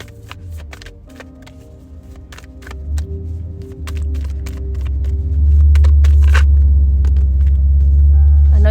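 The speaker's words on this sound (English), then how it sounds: "Do y'all hear the rumbling with the car?" Car engine rumble building from a steady low drone to a louder, sustained roar, with faint clicks and shuffling sounds scattered over it; no talking.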